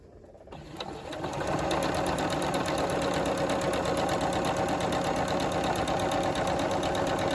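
A sewing machine sews fabric in one continuous, steady run that starts after a brief quiet moment and holds a loud, even mechanical whir with rapid needle clatter.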